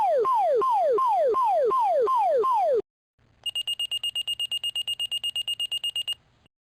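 Fire department dispatch alert tones: a repeating falling electronic whoop sounds about eight times, then after a short pause a rapid pulsing high beep tone continues, loud and clear with no talking.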